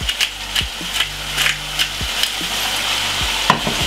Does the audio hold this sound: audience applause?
no